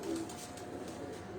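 Pigeons coo softly on a rooftop, their low murmuring calls set against a steady background hum that fills the short stretch without a break.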